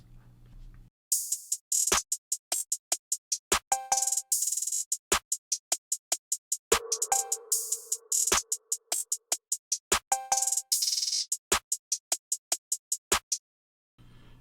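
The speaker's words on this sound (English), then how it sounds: "You hear this bell in all the ratchet songs." A trap beat made in Logic Pro, with a bright repeated bell sample ringing over steady, rapid ticking hi-hats and sharp percussive hits, with brief pauses at start and end.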